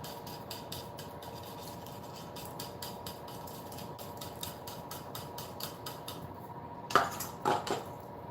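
A utensil stirs and scoops breakfast casserole filling with sausage in a pan, giving repeated faint scraping strokes against the metal, then a few louder clinks near the end.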